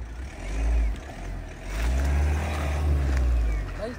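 A two-wheel-drive Mahindra Thar stuck in a muddy field revs its engine in low, rumbling surges, rising and easing a few times, close by with faint background voices.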